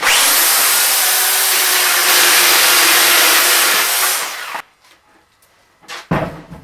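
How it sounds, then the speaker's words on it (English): A chainsaw cuts through a big lump of dense foam from a North Sea pipeline float, a loud continuous roaring buzz for about four seconds, then cutting off into near silence with a brief burst near the end. "And these really big lumps I cut with a chainsaw."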